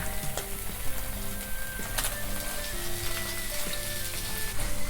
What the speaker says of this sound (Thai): ก็ผัดให้เนื้อหมูสุกสักหน่อยนึง